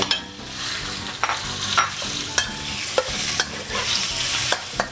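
Pork stir-fries with garlic in a hot pan, a continuous loud sizzle broken by sharp, regular scrapes of a spatula against the pan, no talk over it.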